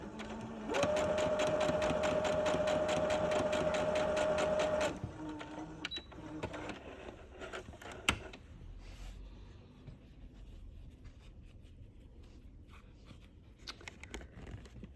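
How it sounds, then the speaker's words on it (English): A sewing machine stitches steadily and loudly for several seconds while top stitching in the ditch of a seam, then stops, leaving quieter handling noises and small clicks. "Your sewing machine"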